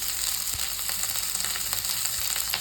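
Chopped onion frying in a pan with ginger, garlic and green chili for soya chilli, giving a steady, close sizzle with a few soft pops and no voices.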